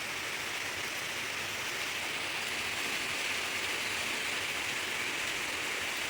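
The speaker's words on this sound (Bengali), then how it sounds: "এই দেখো কেমন বৃষ্টি হচ্ছে বাইরে" Heavy rain pouring outside, heard from an upstairs room as a continuous, even wash of hiss with no breaks or distinct drops, and no voices.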